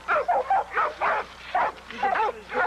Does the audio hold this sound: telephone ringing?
no